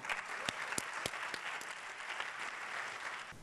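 Audience applause for a singer at a music-for-equality concert in Chiclana, steady dense clapping filling the room with a few sharper individual claps standing out, moderately distant and alone without talk.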